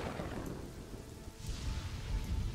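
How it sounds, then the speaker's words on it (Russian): Rain and thunder in the Kingdoms and Castles game: a steady hiss of rainfall with deep rolling thunder rumbles swelling in the background, no talking. "Опять дождь."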